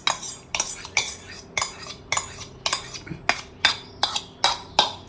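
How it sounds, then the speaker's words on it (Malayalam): Fruit custard stirred in a pan, with about ten evenly spaced metallic clinks and scrapes of a spoon against the pan, close and clear, with no talking. "നന്നായിട്ട് അങ്ങ് ഇളക്കി കൊടുക്കണം"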